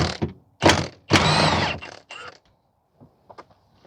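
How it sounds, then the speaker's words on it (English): An impact wrench with a T45 socket removes transmission bolts on a 2014 Volkswagen Tiguan 2.0 TSI, giving close, loud mechanical bursts with a sustained rattling whirr, then fainter clicks and taps. "So I'm just going to use an impact to take them off."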